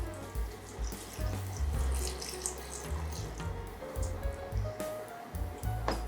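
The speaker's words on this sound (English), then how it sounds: "the last couple of things that I'm going to add is starting with my vegetable stock" Vegetable stock is poured into a pot of tempeh curry, a close, continuous gurgling stream of liquid with slight splashing that swells and fades in pulses.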